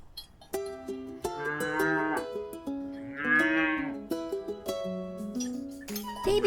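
Calves and their mother cow moo in a farm field, several drawn-out, tonal calls overlapping and following one another at close range with no talking.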